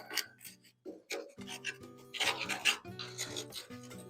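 A screwdriver scrapes packed dirt out of a hole in the rusted chassis of a 1970 Land Rover Series 2, close and loud, with repeated rasping, grinding strokes.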